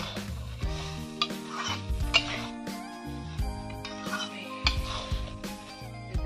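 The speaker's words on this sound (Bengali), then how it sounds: "এইভাবে কষি কষি দেখো কত কমে গেছে।" Small crabs cooking in a curry with cabbage, spinach and potatoes are stirred and scraped in a pan, with repeated clattering strokes of a utensil over a sizzling background and tonal hum, near and moderately loud.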